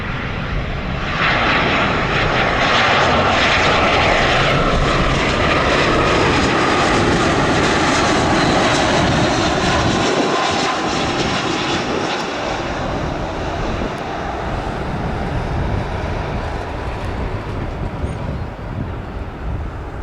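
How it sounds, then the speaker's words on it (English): An Airbus A319 airliner arriving at O'Hare airport roars loudly and continuously, a broad engine rumble with some wind buffeting that holds steady throughout. "Next, I got a very small Airbus A319."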